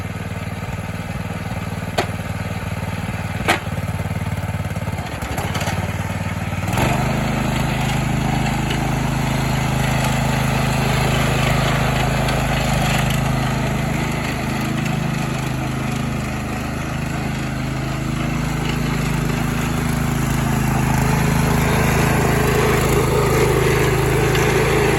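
A 1970 Sears 10XL garden tractor engine runs steadily and loudly for the whole stretch, with a constant low drone whose pitch steps up slightly early on and then holds even.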